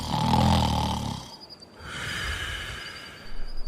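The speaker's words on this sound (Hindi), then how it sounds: "लेटे लेटे उसे नींद आ गई और वे सो गई और जोर जोर से खर्राटे लेने" An old woman snores loudly in a told story, one long rasping, throaty snore up close followed by a softer wheezing exhale.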